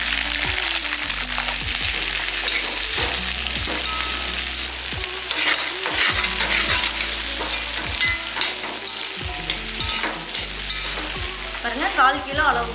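Two kilos of peeled shallots and curry leaves frying in hot oil in a large pot for mutton curry, a dense steady sizzle broken by repeated clanking stirs from a ladle, close and without voices.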